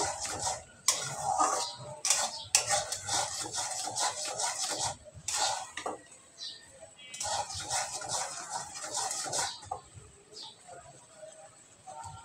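A sugar mixture is stirred in a pan during home cooking, with a utensil scraping and clinking against the metal in quick, uneven bursts that repeat over several seconds, separated by brief pauses.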